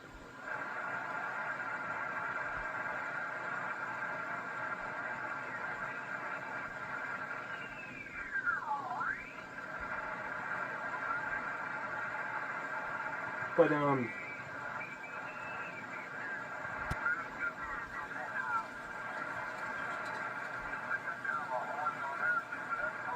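Yaesu FT-891 amateur radio receiver: hiss and steady tones with sliding whistling squeals and brief clicks, faint and continuous throughout.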